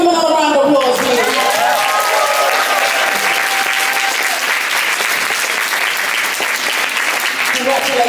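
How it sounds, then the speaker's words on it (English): An awards-ceremony audience gives a dense, loud, sustained burst of applause that fills the whole stretch, with a voice heard briefly at the start. "Give them another round of applause, please."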